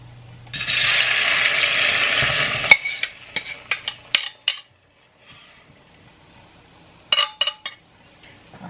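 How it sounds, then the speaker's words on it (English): Beans dropped into a pot with a little bacon grease give a loud steady sizzle for about two seconds, then a series of sharp clinks and scrapes of a utensil stirring against the pot, with quieter sizzling between. "I'm going to go ahead and add my beans"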